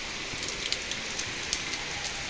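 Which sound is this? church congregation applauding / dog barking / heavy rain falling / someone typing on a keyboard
heavy rain falling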